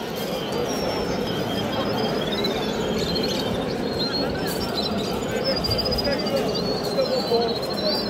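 Caged canaries singing at a bird market in Namangan: thin, high warbling trills that are fairly faint above a steady murmur of market chatter and voices.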